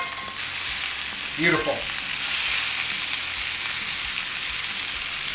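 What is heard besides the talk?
steaks searing in a pan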